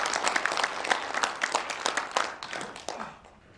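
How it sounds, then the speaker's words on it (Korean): Audience at a Press Center forum claps in a dense, even burst that tapers off toward the end, moderately loud. "박수 부탁드리겠습니다."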